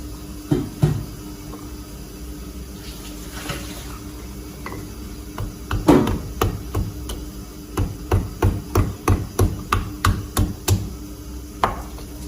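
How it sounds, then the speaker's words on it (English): Five garlic cloves are mashed by hand, several scattered thuds giving way to a run of about a dozen rhythmic, evenly spaced pounding knocks, close and fairly loud. "Mash 5 garlic cloves."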